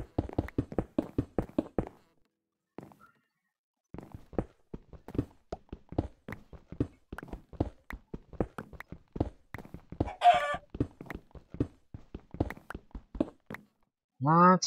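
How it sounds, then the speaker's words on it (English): Chickens clucking in a Minecraft FTB Infinity Evolved Skyblock game, a fast run of short repeated clucks and game taps close up, pausing briefly then resuming, with a higher squawk near the end. "lots of chicken sounds there."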